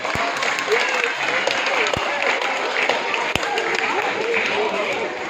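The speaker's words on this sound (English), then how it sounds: "keep that round of applause going with my squad" Crowd at a zoo animal show applauding steadily, a broad wash of clapping with scattered louder claps, while an announcer keeps talking over it.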